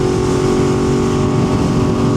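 A 2025 BMW S1000RR fitted with an SC Project exhaust roars loudly and steadily up close, a dense continuous engine drone with no talking over it.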